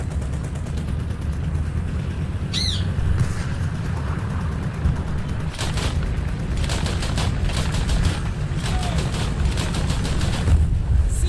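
Anti-aircraft gunfire in the video game Dune comes as a continuous rumbling barrage, with sharp bursts of repeated shots clustered in the later part, loud and sustained, and a brief whistling sound early on.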